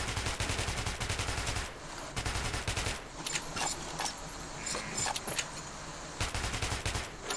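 Bursts of rapid gunfire from the Bastard Gun, a crude homemade weapon in Metro 2033, come in loud, close clusters with short pauses between them, alongside scattered shots and clatter.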